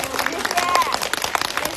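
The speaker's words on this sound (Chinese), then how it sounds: "掌声送给我们可爱的3位演员和导演" A large crowd claps and cheers for three actors and a director at a Legend of the Condor Heroes film roadshow in Hangzhou, with steady dense applause, some high squeals, and voices mixed in.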